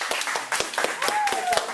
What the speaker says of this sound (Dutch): Applaus voor jullie zelf.